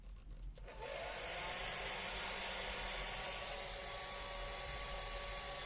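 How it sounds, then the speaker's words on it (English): A hair dryer switches on and runs as a steady, loud whirring blow, serving as the load during an AC current test with a multimeter; no voice is heard. "It use a hair dryer for the testing."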